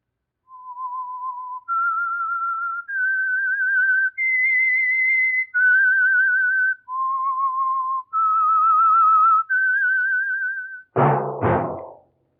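A clear melodic whistle of eight sustained notes rising and falling, followed by two short thuds at the end; the theme whistle of the 1947 radio drama The Whistler.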